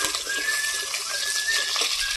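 Two whole dried red chillies and nigella seeds fry in hot oil, sizzling with a dense, close, steady hiss and crackle, while a thin whistling tone rises and fades twice.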